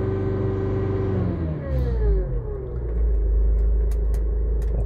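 The diesel engine of a Kia Sportage 2 with a faulty throttle valve revs up and drops back, a steady loud droning rumble whose pitch rises and falls in a couple of sweeps, heard close with no talking.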